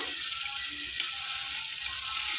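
Green chillies sizzling in hot oil in a pan, making a steady, close, even hiss with no pauses and no voices.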